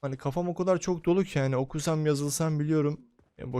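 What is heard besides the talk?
None of the usual background noises is heard.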